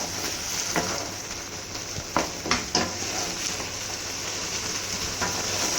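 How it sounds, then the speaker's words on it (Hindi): Butter and chicken karahi sizzling and frying in a pan over high flame, a steady close crackle with a few sharp clinks of stirring, no talk. "नाज़रीन मक्खन अब मेल्ट हो रहा है। अब हम इसको अच्छा सा भून लेंगे।"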